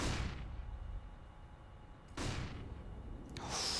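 Two or three loud, sharp gunshots in a CS:GO match on the Overpass map ring out with long decaying tails, separated by quieter stretches of low background hum.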